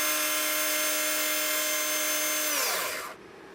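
A small electric motor in a Super 7 hop-up setup whines at a steady high pitch, close and loud, then spins down smoothly as it is cut off near the end.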